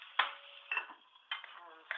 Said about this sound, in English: Put the lid back on here for a minute.